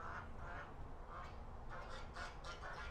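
Ducks quacking far off outdoors, a series of soft repeated calls rising out of a steady rush of background noise, faint and distant, with no one speaking.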